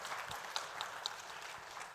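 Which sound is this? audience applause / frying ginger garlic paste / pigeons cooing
audience applause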